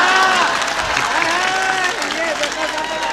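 An audience applauds at a Hindi comic poetry recital, a dense wash of clapping with some cheering throughout, while the poet's voice carries over it.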